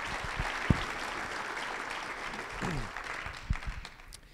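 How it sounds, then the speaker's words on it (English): Applause from a luncheon audience at a Rotary gathering, a steady wash of clapping from a crowd that fades slightly toward the end. "How about another round of applause for Tyrone Evans Floyd?"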